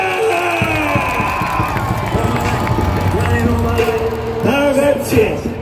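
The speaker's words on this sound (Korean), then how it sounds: "사회말 랜더 진점을 위해 박수와 함성 발사!" Crowd cheering and clapping at a baseball game fill the whole stretch, a dense roar of many voices with shouts, whoops and a stadium announcer's amplified voice over it, loud and continuous.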